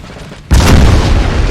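Napoleonic artillery fire in the Napoleon Total War video game, a sudden loud boom at a battle that rolls into sustained rumbling cannon blasts and battlefield din, with speech mixed underneath.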